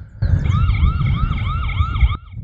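INQMEGA solar security camera siren set off by motion, a loud electronic wail that sweeps up and down in quick repeated cycles for about two seconds, then stops abruptly.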